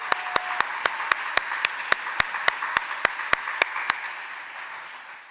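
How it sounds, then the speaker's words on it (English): At a Doctor of Physical Therapy commencement at the University of Lynchburg, the 2022 graduating class applauds. One close pair of hands claps in a sharp, even rhythm over softer crowd clapping that fades out. "Give yourselves another round of applause."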